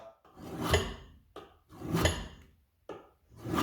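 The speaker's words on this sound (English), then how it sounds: "Start the scraper and put pressure." A metal wood scraper pressed and pushed along a sharpening surface makes long rasping strokes, three or four slow swells of scraping separated by brief pauses; close and fairly clear, with no voices.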